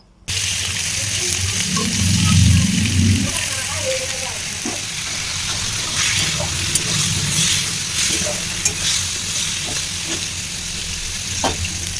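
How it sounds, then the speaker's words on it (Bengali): Eggs frying in a home kitchen pan, with a steady close sizzle and crackle running throughout and a few sharp pops and utensil taps, a brief louder low rumble early on. "আমি ওই ডিমগুলো ভেজে নিচ্ছি"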